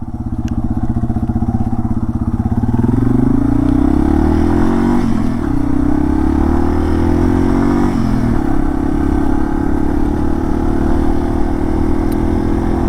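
A motorcycle rides a washboarded dirt road, its engine loud and close, rising as it accelerates, then holding a steady droning pull with some rattle and clatter. Nobody speaks.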